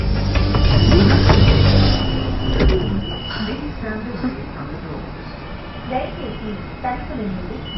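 A train arriving at Begumpet station rumbles and screeches along the rails, loud at first and then easing, with people talking over the clatter.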